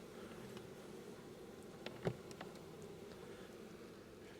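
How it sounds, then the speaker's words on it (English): Honeybees from a colony found living under a house floor give a low, steady buzzing hum at the hive entrance, with a brief louder tick or bump near the middle. "There's still a good bit of bees on the inside here"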